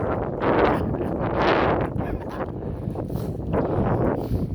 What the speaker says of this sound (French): Il y a de la pluie, il y a du vent